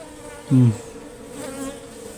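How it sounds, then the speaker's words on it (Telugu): A honey bee buzzes close by in a short loud burst near a hive being harvested, then hums more faintly a moment later over a low background. "ఈగ విపరీతంగా వాళ్తున్నది"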